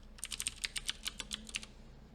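Quick, light clicks of typing on a computer keyboard during a Python coding class, with irregular keystrokes pattering close and fairly quiet for a couple of seconds.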